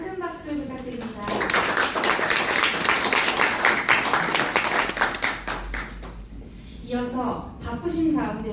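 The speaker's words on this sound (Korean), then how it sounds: "다시 한번 큰 박수 부탁드립니다." Clapping from the crowd at a Korean election campaign office opening ceremony, a burst of many hands that swells after a spoken announcement and fades as a voice resumes over the hall.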